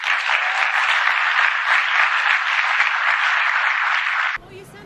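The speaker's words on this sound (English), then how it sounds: "You can cheer. It's all right." A crowd cheers and applauds loudly and continuously at a political appearance, with dense clapping that cuts off sharply just before the end, where a faint voice is heard.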